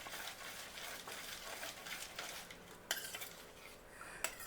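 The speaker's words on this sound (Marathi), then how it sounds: "हे सगळं छान मिक्स करायचं." Kharwas ingredients with jaggery, nutmeg and cardamom powder are mixed in a bowl with a spoon, giving soft, faint, uneven scraping and stirring sounds with a couple of light clinks.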